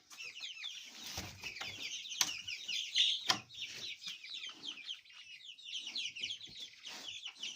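Chicks in a farm coop peep and cluck continuously in a busy chorus, fairly close, with a few sharp knocks and clatters from the pen mixed in.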